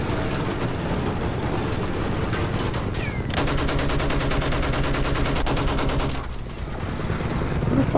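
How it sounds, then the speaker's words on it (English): Continuous rapid gunfire and explosions from a Battlefield 1 battle, a loud, dense barrage of shots layered over rumbling engine noise that runs the whole stretch without pause. "Who the fuck is shooting?"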